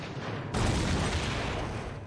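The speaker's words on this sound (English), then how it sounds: "we've got explosions going off already" Explosions in the System Shock 2 video game erupt as a sudden loud burst of booming noise that cuts in and rumbles on steadily, with no talking.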